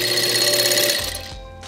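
A sewing machine stitches fabric for a five-panel camp hat, a steady, close mechanical whir running continuously before slowing and winding down near the end.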